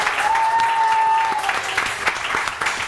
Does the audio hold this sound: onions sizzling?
no